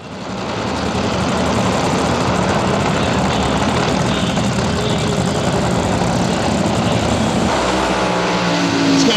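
A top fuel dragster engine roars at full, constant volume for the whole stretch at a Midwest Drag Racing Series event in St. Louis, a dense, harsh broadband blast that swells in slightly at the start and never lets up.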